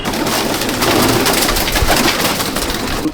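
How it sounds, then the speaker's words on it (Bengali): An Arshad line pigeon in a home loft in Jangipur, Murshidabad, coos softly under a broad, hissing wash of background noise, with no voices present. "এটা আরশাদ লাইনের পায়রা।"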